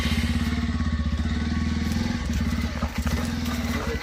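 A motorcycle engine idles close by with a steady, throbbing low putter, the rhythm wavering slightly toward the end.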